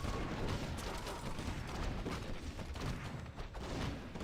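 Continuous game battle audio from a Warcraft III match, dense overlapping explosive booms and gunfire-like blasts from mortar teams shelling, steady and loud throughout without pauses.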